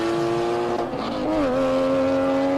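A 23-year-old original Porsche GT3 races past at a hill climb, its engine loud and near as it holds a high, steady howl, dips briefly on a gear change, then climbs again.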